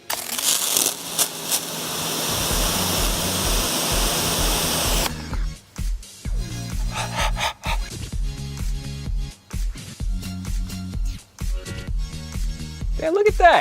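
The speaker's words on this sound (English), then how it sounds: "I'm about to blast this G6 full of water." An LG G6 phone blasted by a water jet: a loud, steady rushing spray for about five seconds, then broken bursts and splashes with a voice talking over them.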